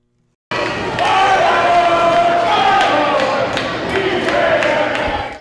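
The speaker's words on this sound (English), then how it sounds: "The crowd was fired up and stood all night as Ephrata Volleyball hosted the Othello Huskies." A home crowd at an Ephrata volleyball match against the Othello Huskies cheers and yells in a sustained roar, with sharp slaps and bangs from the court punctuating the noise at irregular intervals.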